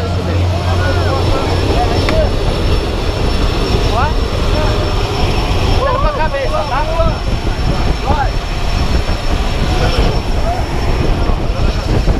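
Steady loud drone of a skydiving aircraft's engine, continuous throughout, with voices talking over it.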